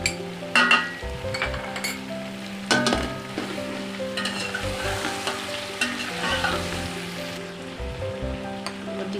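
Garlic and ginger paste fries for chicken pulao, sizzling loudly near at hand under the clink and scrape of a spoon stirring in the pot, with no one talking.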